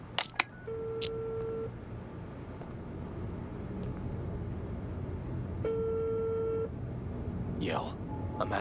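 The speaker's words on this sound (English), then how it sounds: "let's listen to the phone call" Phone call audio from the detective game Unheard, with electronic dial tones and beeps at the start and again midway over a steady murky background hum, plus a rising warbling tone near the end.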